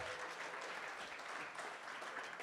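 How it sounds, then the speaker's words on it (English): Wedding guests applaud during the reception speeches, a dense, steady burst of clapping from a full room lasting a couple of seconds. "A round of applause for them for putting everything together here."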